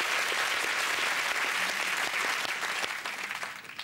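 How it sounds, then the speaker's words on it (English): Studio audience applause for Sir Patrick Moore on a TV talk show, loud and sustained clapping from a crowd that tapers off slightly near the end. "Let's hear it for Sir Patrick Moore"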